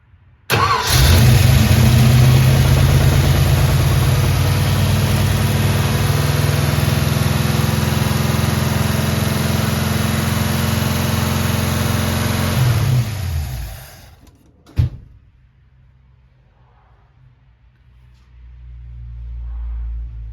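A 1955 Ford 292 Y-block V8 with a Summit 500 cfm carburetor and electric choke cranks, fires and idles loudly and steadily for about thirteen seconds, then shuts off with a clunk before quiet.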